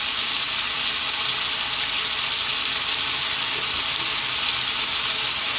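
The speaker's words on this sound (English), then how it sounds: "I'm going to put some water in now." Cold water pours into a pan of curry with tomatoes, a loud, steady rushing hiss that runs unbroken and close, with no voices.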